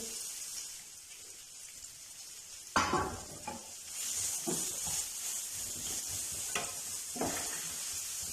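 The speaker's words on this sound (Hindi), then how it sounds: "प्याज को हमने सौते करना है, बहुत ज़्यादा फ्राई नहीं करना।" Chopped onion sautéing in oil with spices for a samosa filling, a steady soft sizzle with louder bursts of hissing and stirring scrapes as the onions are turned in the pan.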